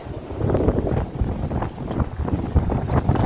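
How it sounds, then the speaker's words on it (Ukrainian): Strong spring wind in the Netherlands buffets the microphone while cycling, in loud, low, gusty rumbles that rise and fall without pause. "вітер задуває"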